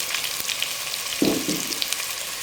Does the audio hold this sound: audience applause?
no